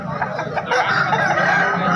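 Chickens cluck and squawk close by at a chicken market, a busy flock of overlapping calls that grows slightly louder partway through.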